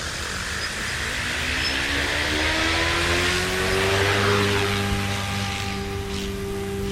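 A Goosky RS4 RC helicopter motor spins steadily at 60% throttle in 3D idle-up mode, giving a continuous loud whine with rising harmonic tones that stays constant throughout, with no talking.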